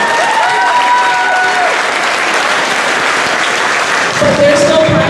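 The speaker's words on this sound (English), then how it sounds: "give them a great big round of applause" Audience at a high school end-of-year sports celebration applauding the boys lacrosse team: loud, dense, continuous clapping throughout, with a few faint cheers.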